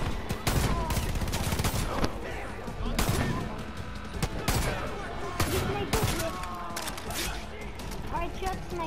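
Rapid gunfire and sharp shots in Far Cry 5, sniper rifle included, with repeated loud cracks over busy game noise while someone talks.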